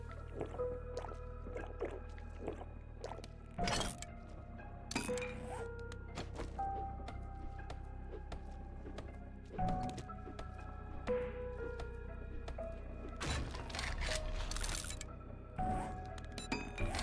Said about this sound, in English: Unfortunately, until we kill the bears, we're gonna hear that squelching noise.